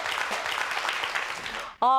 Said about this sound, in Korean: 오늘 정말 멋진 강연해 주신 우리 곽현아 씨에게 큰 박수 부탁드립니다